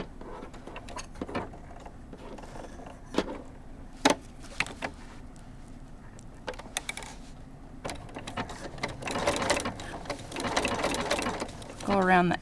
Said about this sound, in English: I'm gonna switch to a fairly narrow little zigzag.